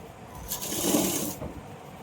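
A sewing machine stitching a Patiala pant pleat makes one short whirring burst of about a second, rising and fading against quiet room noise.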